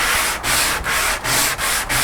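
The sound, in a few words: sanding wooden boards for floor lamp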